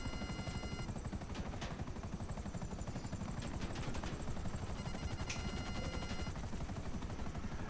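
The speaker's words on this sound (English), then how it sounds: "I should not even be getting shot at." GTA 5 gunfire beneath the steady thrumming rotor of a helicopter, sharp rapid bursts of shots breaking through the continuous chopping drone, all fairly faint and distant with no talking.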